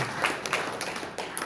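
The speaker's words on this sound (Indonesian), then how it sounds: "Yang setuju tepuk tangan bagi Allah." A church congregation at Sunday worship claps in steady, moderately distant applause, a dense patter of hand claps with a few sharper individual claps through it.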